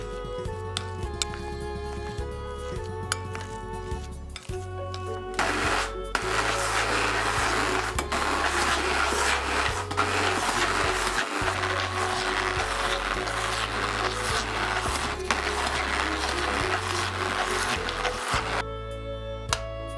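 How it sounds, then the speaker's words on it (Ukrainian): A blender whirs loudly and continuously while blending soft cheese, its motor pitch shifting as the mixture thickens, with a short pause and clatter partway through. "для найкращого результату я перебиваю його ще й блендером"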